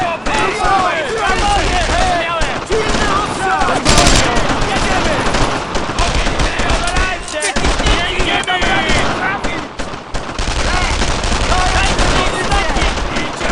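Dense, continuous rapid gunfire and explosions crackle throughout in the video game Brothers in Arms: Road to Hill 30, with bursts layered on top of each other and voices shouting underneath in Polish.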